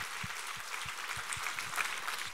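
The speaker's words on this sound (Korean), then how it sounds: "박수 올려드리겠습니다." Sustained applause from a church congregation during a Sunday worship service, a dense crackle of many hands clapping steadily for about two seconds, with occasional low thumps, at moderate level and no talking.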